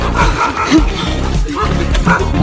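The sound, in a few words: dogs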